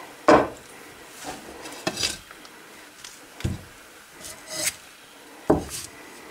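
Several separate clinks and scrapes of ceramic plates being handled and set down in an abandoned house, close and fairly quiet, spaced out with short pauses between them.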